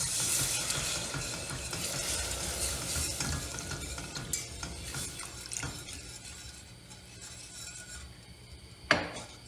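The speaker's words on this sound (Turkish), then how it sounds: "Ve kaynayıp göz göz olana kadar karıştırarak pişireceğim." A spoon stirs a sauce of roasted flour, salt, black pepper and a glass of milk in a pan for Hünkar beğendi. Continuous scraping and swirling sounds are close and moderately loud, then ease off, with a sharp knock near the end.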